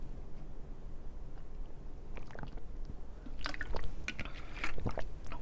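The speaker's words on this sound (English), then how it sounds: "Let me take a sip of water." Someone takes a sip of water close by: a few soft wet slurps and swallowing squishes cluster in the second half, over a quiet room background.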